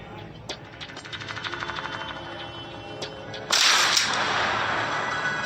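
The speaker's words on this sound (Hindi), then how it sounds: "स्नाइपर गन है अपने पास" A sniper rifle fires in a video game: a rapid run of light clicks builds up, then a single sharp, loud shot cracks and leaves a noisy, lingering wash of sound.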